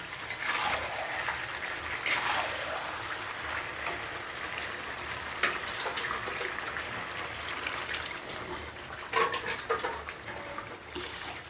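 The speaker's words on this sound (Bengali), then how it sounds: "এবার জল দিয়ে দেবো" Water poured into a pan of fried chicken curry, a steady close splash and trickle lasting several seconds over a hiss of cooking, with no voices.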